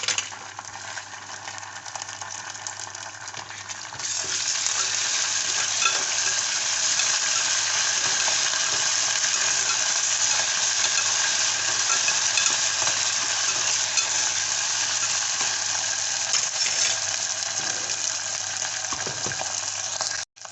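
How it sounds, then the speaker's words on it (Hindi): Loud, steady sizzling of ginger garlic paste frying in a hot pan continues without a break, with faint scraping from stirring now and then. "अब मैं डालूंगी उसमें ये अदरक लहसुन का पेस्ट।"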